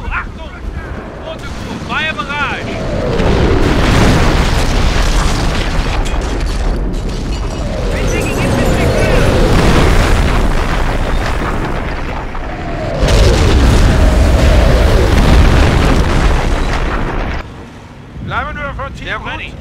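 An artillery barrage in the Company of Heroes strategy game sends heavy booms rolling in roughly every five seconds, each with a long rumbling tail over a windy, roaring background.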